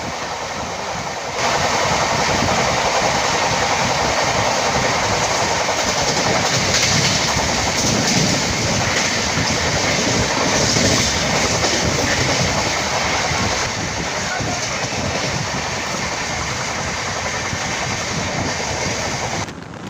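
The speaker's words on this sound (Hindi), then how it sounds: "अब हमारी ट्रेन किशनगंज पहुंच रही है और एक बार फिर से हम बिहार में आ गए हैं।" The Jogbani–Siliguri Town Express rolls along the rails in India, a loud, continuous rumble and rattle from inside the moving train with steady clickety-clack, heard alone without voices.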